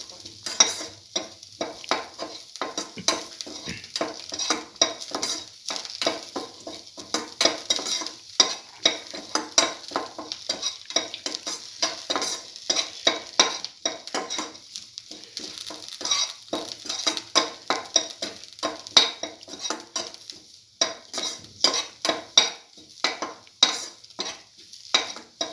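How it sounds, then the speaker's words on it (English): A bottle gourd stew with egg sautéing in a pan, with a steady sizzle and frequent rhythmic scrapes and clinks of a utensil stirring throughout, fairly close and with no talking. "Keep on sauteing."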